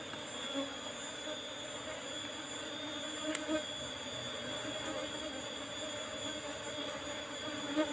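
Apis cerana honey bees hum around a freshly harvested hive, a faint, steady buzzing drone with a few small clicks and no clear talk.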